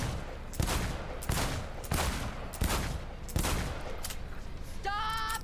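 Gunfire at a shooting range in Cyberpunk 2077: six evenly spaced single shots ring out, moderately loud, followed by a brief electronic beep at the end.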